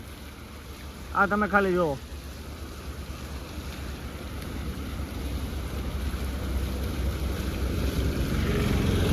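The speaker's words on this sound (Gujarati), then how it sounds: "જોવો કીટલીમાંથી પાણી પડે છે" Water pours from a kettle in a steady, continuous splashing stream that grows slightly louder over time, with a short spoken remark near the start.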